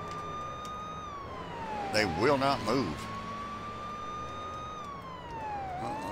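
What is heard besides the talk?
police car sirens in Police Simulator video game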